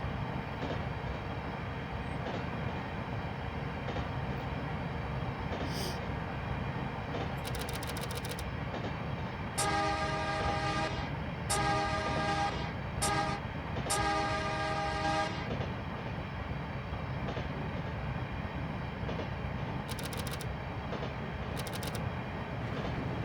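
A train rumbles along in the Train Simulator game, likely the Sacramento Northern SN 1003 interurban, with a steady loud running drone and several short horn blasts in the middle, without any talk.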